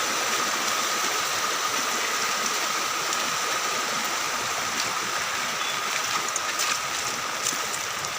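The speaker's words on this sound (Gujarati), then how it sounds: "ધોધમાર પાણીનું આવક છે" Floodwater rushes heavily past a village farm track during torrential rain, a steady, loud, broadband roar with no pauses and no voices.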